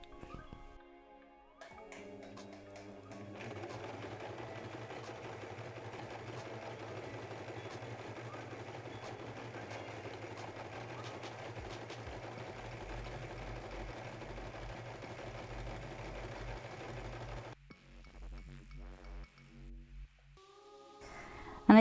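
A sewing machine runs in one long continuous stretch, stitching a furry Halloween Jack cushion, with a steady close whirring hum that stops abruptly near the end, followed by brief handling noises.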